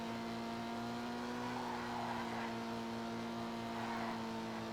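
A Dinka Jester RR sports car driving in GTA, its engine a steady high-revving drone with a constant layered tone and faint tire noise, loud and close throughout.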